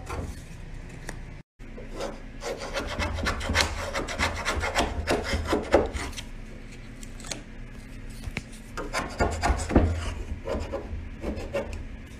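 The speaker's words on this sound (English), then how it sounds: "Just don't touch it before you go in with the scraper." A hand scraper rasps old finish off a wooden porch in repeated rough strokes, close and fairly loud, with a brief silent gap near the start and no speech.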